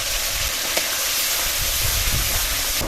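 Green chili and ginger paste with cumin, pepper, coriander paste and turmeric frying in a pan, a loud steady sizzle with a constant hiss and occasional stirring scrapes, no talk.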